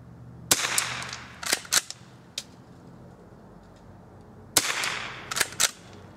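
Old .22 rifle fired at cans outdoors, a few sharp cracks in two clusters with short pauses between, fairly near and alone.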